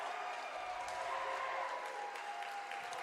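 A partisan home crowd applauds steadily in an indoor volleyball arena during a conference tournament final, the clapping dense and continuous throughout.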